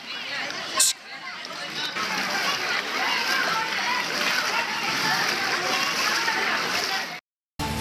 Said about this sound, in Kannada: ಅದೇ ಮಳೆ ನೀರಲ್ಲಿ ಓಡಾಡ್ತಾ ಇರುವಂತಹ ದೃಶ್ಯ.